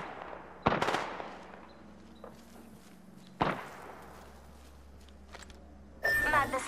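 Gunfire in the video game Apex Legends cracks out in a few sharp separate bursts over a low background hum, ending in a louder, denser burst.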